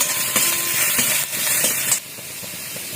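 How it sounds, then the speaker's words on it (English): Potatoes sizzle and spatter in hot oil with fenugreek seeds, a constant bright hiss with small crackles, dropping somewhat quieter partway through. "first of all fry the potatoes a bit"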